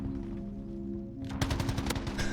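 Automatic weapon hipfire from an AK and an LMG in a video game, a muffled steady drone giving way to loud rapid bursts of gunfire in the last second.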